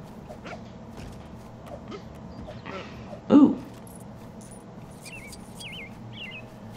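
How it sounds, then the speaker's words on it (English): Birds sing faintly in the background with a few short, high chirps toward the end, heard over quiet room noise with one brief louder thump just before them. "Sorry if you hear birds in the background."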